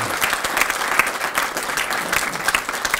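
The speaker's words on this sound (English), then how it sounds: "give yourselves another great round of applause for that" Audience applause at a governor's legislative signing event in Chesterfield, a steady, dense clapping from a sizable crowd lasting the full few seconds.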